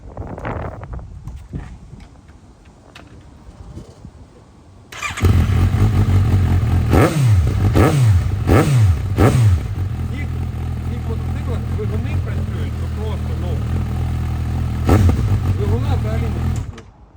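A Suzuki GSR750 ABS motorcycle engine starts abruptly, then revs sharply three times in quick succession before settling into a loud, steady idle with another brief rev near the end.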